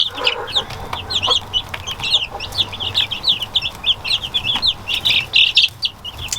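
Baby chicks in a brooder coop chirping and peeping, a dense run of high, quick calls throughout, close by and fairly loud over a faint background hum.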